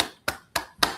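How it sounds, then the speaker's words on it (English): Three sharp broadband claps in slow, evenly spaced succession, fairly quiet with no voices, from attendees of an online accounting webinar. "clapping"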